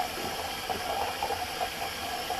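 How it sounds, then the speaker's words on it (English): Water from a bathroom tap runs steadily while a safety razor is rinsed under it, a continuous close hiss and splash with small fluctuations and no talking. "Actually, I'm going to rinse my razor real quick too and hang it up."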